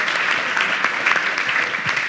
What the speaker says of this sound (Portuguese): E uma salva de palmas para a Aline e para o esposo dela